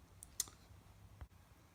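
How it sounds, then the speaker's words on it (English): A computer keyboard's enter key is pressed, giving a couple of faint, crisp clicks close by in an otherwise quiet room. "So we will hit the enter key once"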